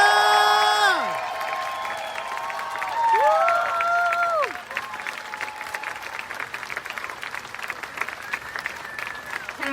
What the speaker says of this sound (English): I just continue this round of applause for Rally Poet Laureate, Espi.